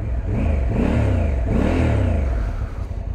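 A 2025 Honda Africa Twin DCT motorcycle engine revs up and down twice nearby, rising and falling in pitch with a loud mechanical whir.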